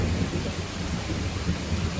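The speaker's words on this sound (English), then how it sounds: "A little bit of a storm." Thunder rolls low and heavy through steady rain on a Monday storm near a garden, a continuous deep rumble under the dense hiss of falling rain.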